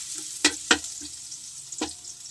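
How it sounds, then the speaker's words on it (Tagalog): Onion sautéed in a pan for chicken adobo, a quiet steady sizzle with three sharp stirring scrapes of a utensil against the pan. "Pag ganyang gisado ng sibuyas, masarap kasi ang masibuyas eh."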